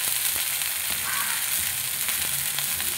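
Green chillies sizzle in a pan of frying mixed vegetables for a vegetarian panchmishali sabzi, a continuous loud hiss with faint stirring scrapes throughout and no voices.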